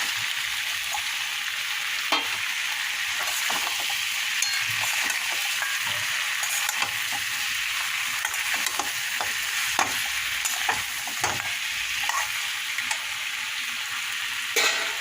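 Broken fish heads frying in spiced, cooked-down masala for Bengali muri ghonto, with a steady close sizzle and repeated scraping clicks of stirring throughout, no talking.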